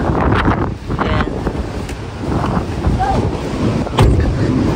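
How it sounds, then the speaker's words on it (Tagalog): Strong storm wind in Greenland buffets the microphone in a continuous loud roar, with gusty surges and a sharp burst near the end. "Grabe lakas ng hangin mga kabayan, no?"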